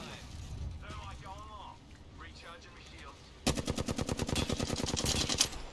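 Gunfire in the Apex Legends video game: rapid automatic fire breaks out partway through as a fast, loud string of evenly spaced shots. Players talk excitedly before the shooting starts.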